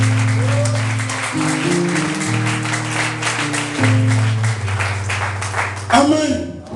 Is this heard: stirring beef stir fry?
no